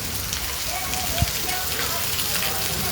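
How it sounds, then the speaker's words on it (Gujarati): Heavy rain, the season's first in Lathi village, pours down as a dense, steady hiss that stays even throughout, with one brief louder thump near the middle. "સારો વરસાદ પડે છે આજે."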